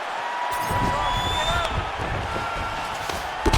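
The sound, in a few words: ground and pound strikes in the video game UFC 5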